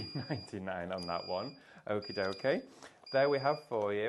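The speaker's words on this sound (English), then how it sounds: "Oh, that's our alarm going off there." An alarm beeping in short, repeated high-pitched tones, faint and intermittent beneath a person talking close by.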